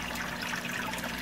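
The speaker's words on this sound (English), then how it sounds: "it slows down the flow of the water and acts as a wet dry. Water just drips from that." Water dripping and trickling through an aquarium wet-dry filter, a steady, close splashing patter that runs continuously without talk.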